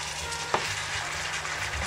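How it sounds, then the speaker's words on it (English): Carrots and mushrooms stirred in a sizzling pan for lasagna, a steady close frying hiss with a brief scrape of the spoon, no voices. "She adds the carrots and the mushrooms. Gives it a good old stir."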